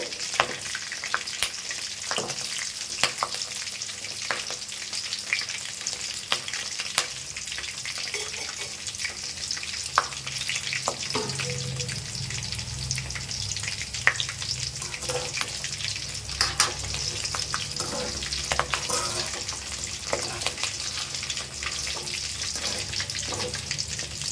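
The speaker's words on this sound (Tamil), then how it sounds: "கொஞ்சம் போல் கருவேப்பிலை கூட சேர்த்து பொரிச்சிக்கலாம்" Steady sizzling and bubbling of chicken and curry leaves deep frying in hot oil for chicken 65, with occasional stirring scrapes, continuous and close, no talking.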